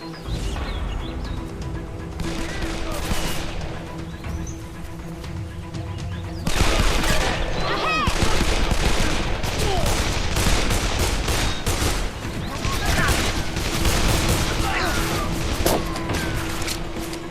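Gunfire rattles in the video game Call of Juarez: The Cartel, dense bursts of automatic shots and loud cracks repeating throughout over a steady background hum, getting heavier midway.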